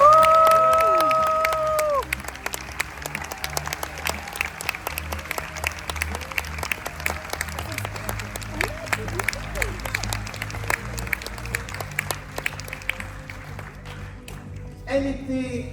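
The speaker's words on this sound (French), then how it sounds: "Mesdames et messieurs, une ovation pour Wendy Lou Lee." An audience at the Monte-Carlo Television Festival gives a sustained ovation for Wendy Lou Lee. Dense, loud clapping opens with a brief voice over it, then continues steadily with scattered cheers before fading at the end.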